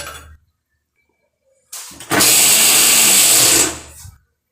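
A loud, steady mechanical whir of a mixer grinder grinding spice paste runs for about two seconds, starting abruptly and winding down, after a brief rough start.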